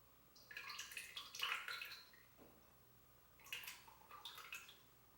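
Melted coconut oil pours onto a kitchen scale in two quiet bursts of soft splashing and trickling, with a brief pause between them and no talking.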